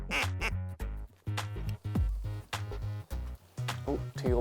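Rapid, repeated teal duck quacking calls in bursts as the ducks fly past, fairly loud and close, one after another, on the North Dakota prairie pothole region.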